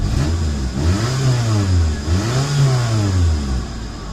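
A Geo Metro with 221,000 miles on it revs its small engine in two rising and falling sweeps, loud and close, with no talking.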